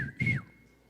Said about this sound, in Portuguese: O nosso assobio é esse aqui